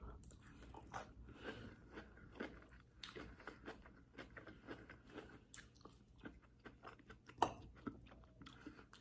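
Someone eats shrimp close to the microphone in a mukbang setting. Soft, wet chewing and crunchy bites repeat in an irregular rhythm, quiet and intimate, with no talking over them.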